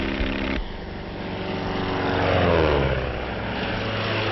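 A 1935 skywriting propeller airplane drones steadily overhead, its engine swelling louder as it passes, then easing off, heard alone on a thin, old recording.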